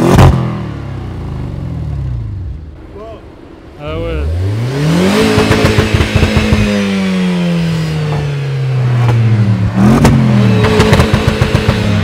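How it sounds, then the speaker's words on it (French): An Audi RS6 revs hard after being switched into sport mode, heard from just behind the car: the engine note climbs and falls loudly several times, ending in a rapid series of sharp exhaust crackles. "Je te laisse passer juste derrière la voiture pour que t'entends le bruit quand je passe le mode sport"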